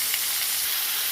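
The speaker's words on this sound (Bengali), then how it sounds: "ভালো করে নেড়ে চেড়ে ভেজে নেবো" Pumpkin, tomato and potato pieces fry in hot oil in a kadai while being stirred, giving a close, continuous hissing sizzle with no voices.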